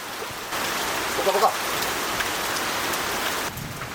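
Rain falls steadily and grows heavier at a forest edge near a rubber plantation, a broad continuous patter on surfaces with a few louder drops, fairly close.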